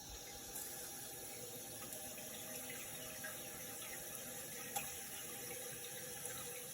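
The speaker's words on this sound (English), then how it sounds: "water's going on" Water runs steadily through a newly installed non-electric bidet supply line, a constant hiss of flow with a small click partway through and no voices.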